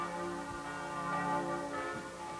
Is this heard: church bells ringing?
yes